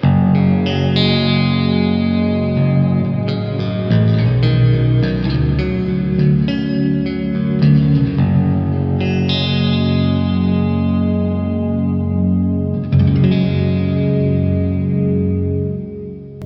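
A deep, bass-like Chapman ML-1 Pro Modern 28-inch baritone electric guitar plays chords and notes through chorus and echo effects, ringing out continuously with sustained, shimmering tails.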